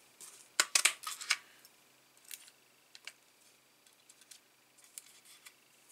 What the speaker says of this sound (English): I'm going to go in and cut some of these beautiful butterflies off.